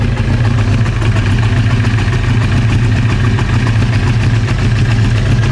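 A Honda CBR 900 Fireblade motorcycle, nearly thirty years old, with a running fault, idles loud and close in a steady, unbroken low engine drone with a fast pulsing throb and no voices.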